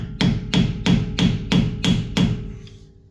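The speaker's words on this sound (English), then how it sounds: "So what I like to do is just take a screwdriver and start popping it out." A screwdriver works loose the front wheel hub on a 2004 Ford F150: seven sharp metallic knocks at a steady rhythm about a third of a second apart, close and loud, then fading out, with no talking.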